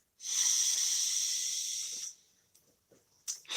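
Deep, drawn-out breath, one long steady airy exhale lasting about two seconds, close and alone, followed by soft faint rustles and a brief second intake of breath.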